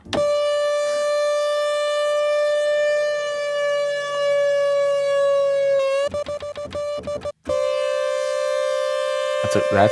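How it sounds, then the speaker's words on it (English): A civil defense siren played as a synth holds a steady, buzzy electronic wail, then breaks into rapid choppy stutters before returning to the sustained tone. "So I actually turned the siren into a synth."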